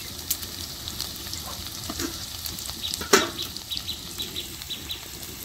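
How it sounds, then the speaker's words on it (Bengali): Garlic added to a pan where onion and green chili are already frying for a sour lentil dal, giving a soft, steady sizzle with a few stirring scrapes and one sharper burst midway. "এখন দিব রসুন"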